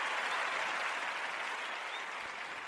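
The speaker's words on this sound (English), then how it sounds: "Round of applause for that." Steady applause from an audience at a podcast-style milestone celebration, a dense, even wash of clapping that holds at moderate loudness for under three seconds with no voices over it.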